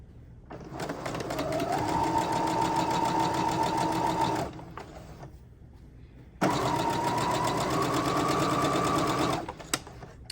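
A sewing machine stitches a quarter-inch seam on jelly roll quilt fabric using a quarter-inch piecing foot, running steadily in two close, sustained bursts of a few seconds each with a short pause between them.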